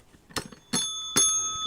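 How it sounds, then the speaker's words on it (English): A new bicycle bell rings three times in quick succession, close and bright, each ding leaving a lingering ring, with no talk over it. "A new bell. Oh, a better bell."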